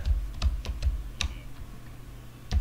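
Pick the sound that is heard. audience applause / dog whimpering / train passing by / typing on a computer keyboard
typing on a computer keyboard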